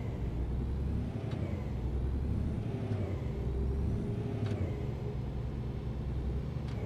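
A car on the road between Leipzig and Nürnberg, heard from inside as a steady low engine and tyre rumble, continuous and even, with faint ticks and no talking.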